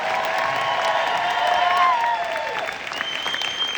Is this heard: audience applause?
yes